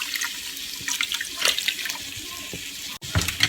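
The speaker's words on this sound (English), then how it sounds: "I'm going to pour the sauce all over the meatballs." Sauce poured over frozen meatballs in an Instant Pot, a steady wet splashing pour with a few brief bursts and a short gap near the end, close and moderately loud, no talking.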